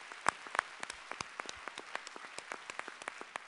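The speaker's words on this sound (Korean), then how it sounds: "우리 하나님께 감사와 영광의 박수를 올려드리겠습니다." Applause from a church congregation during a winter revival service: a scattering of distinct, fairly sparse claps, some sharper and closer, spread unevenly across a few seconds in a reverberant room.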